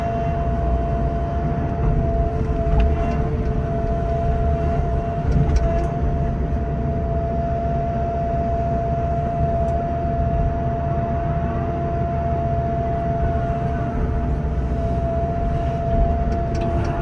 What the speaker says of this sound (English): It takes a few minutes to load the dump truck with this